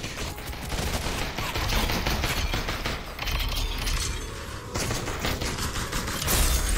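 Continuous dense gunfire from pistols and shotguns in the VR battle royale game Population One, a steady barrage of overlapping shots with shifting intensity throughout.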